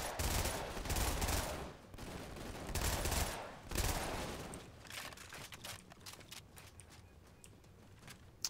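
Suppressed weapon fire in Halo 2 Anniversary rattles in rapid bursts, with dense stretches of shots broken by short pauses, then lighter scattered clicks toward the end, steady in level.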